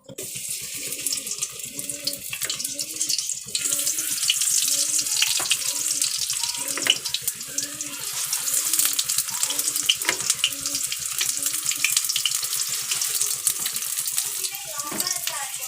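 Eggplant pieces sizzle steadily in hot oil in a kadhai, a dense continuous frying hiss running close and fairly loud throughout, with occasional light clinks.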